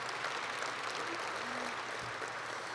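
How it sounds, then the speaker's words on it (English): Audience applause at a Husky Hall of Fame ceremony, a steady, fairly faint wash of clapping that holds evenly for about three seconds. "Give them a nice round of applause."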